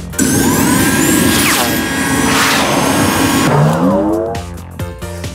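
Hero hairdryer in the Bubble Guppies Good Hair Day game: a loud, steady whirring blow with sweeping tonal effects, settling into jingly game sounds near the end, with a voice speaking over it.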